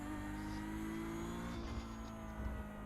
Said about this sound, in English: Hear the revs better too.